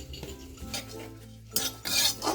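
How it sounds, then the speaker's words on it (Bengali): Whole spices (cinnamon, cloves, cardamom and cumin) are stirred in a pan with scraping and clinking of a utensil, a light sizzle underneath, close and fairly quiet with no voices. "তো দেখুন নাড়িয়ে ছাড়িয়ে এই মশলাগুলোকে খুব ভালোভাবে ভেজে নেব"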